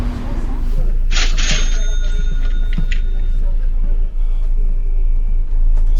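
Inside a bus in Marseille, a steady low engine rumble and road hum run throughout, with a brief brighter hiss and tonal beep around the middle and indistinct voices in the background.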